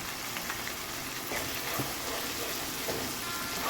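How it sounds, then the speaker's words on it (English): A one-pan meal with Worcestershire sauce sizzling steadily in a pan, a near, continuous crackle with faint scraping from stirring throughout. "And give it a mix."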